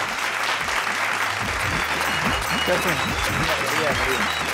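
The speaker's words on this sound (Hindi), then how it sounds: "तुरंत जोरदार तालियों के साथ आपका स्वागत है वर्मा जी" An audience at a Hindi poetry gathering applauds in welcome of a poet, a full, steady wash of many hands clapping together, with voices talking faintly underneath.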